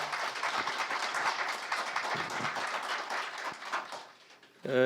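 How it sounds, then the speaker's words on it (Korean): An audience in a hall at a memorial foundation celebration applauds after a professor's performance, dense steady clapping that thins out before a louder sound cuts in at the end. "여러분 뜻깊은 연주를 해주신 여그나 교수님께 뜨거운 박수 부탁드립니다."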